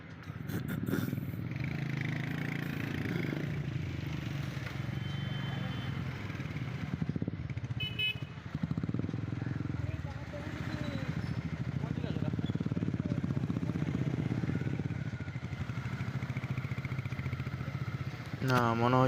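A motorbike engine drones steadily as riders climb a hill road toward Parasnath hill in Jharkhand, the hum holding fairly even throughout with some clatter and a brief voice mixed in.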